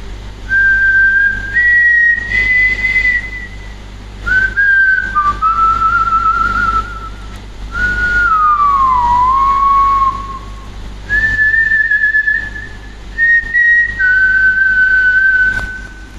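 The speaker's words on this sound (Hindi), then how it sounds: "कोई बेहद खुशी के साथ सीटी बजा रहा है" A person whistles a slow, wavering tune as a sound effect in a horror story narration, with clear sustained phrases that slide in pitch, separated by brief gaps, loud and close over a low background hum.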